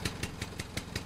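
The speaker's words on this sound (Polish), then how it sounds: "Silnik ładnie chodzi, jest wszystko w porządku" A Trabant's small engine idles in the driving game Jalopy. It makes a rapid, even putter of regular pulses, close up and fairly soft, with no talking.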